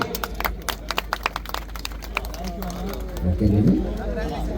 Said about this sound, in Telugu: క్లాప్స్ కొట్టాలి ఒక్కసారి.